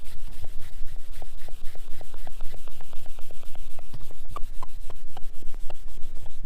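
Cloth wiping a car's paint with a gritty water spot remover, giving a steady rhythmic rubbing and scraping, back-and-forth strokes repeating quickly and evenly, close and loud.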